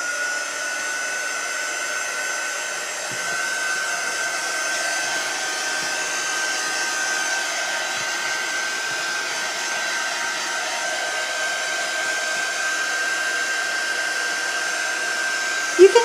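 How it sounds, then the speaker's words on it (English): A handheld heat tool blows hot air to dry chalk paste on a craft project, a steady whirring fan hiss held at an even level throughout, ending with a brief click as it shuts off. "grab my heat tool and give this a quick dry."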